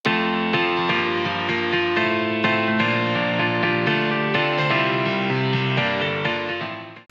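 Bright piano chords repeating in a steady rhythmic pattern over a dense electronic future house backdrop, sustained and loud, fading slightly at the end.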